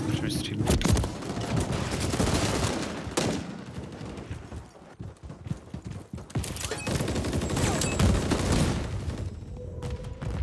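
Rapid gunfire rattles in bursts and single shots in a Modern Warfare 3 match on the Rust map, loud and close, with booms mixed in and voices talking over the shooting.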